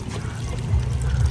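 Water splashes and trickles onto shade plants in a South Florida garden, a short close pour with a gurgling low rush and no speech over it.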